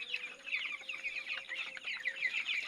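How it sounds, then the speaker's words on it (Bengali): Many tiny chicks in a flock, cheeping constantly in quick, high, overlapping chirps, soft and nearby, with a faint steady hum underneath and no talking. "এই যে একটা মুরগির বাচ্চা, এটা মুরগির বাচ্চা।"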